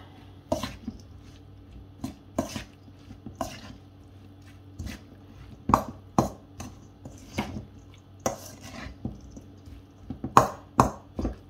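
A spoon works through a bulgur tabbouleh salad in a bowl, giving irregular soft knocks and clicks against the dish with quiet pauses between them.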